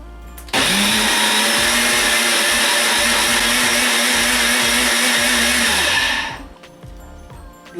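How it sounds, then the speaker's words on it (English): A kitchen blender runs at full power, whirring steadily for about six seconds as it purees coriander with shredded coconut and salt into a paste, then winds down and stops. "I'll close it now and then we'll blend it."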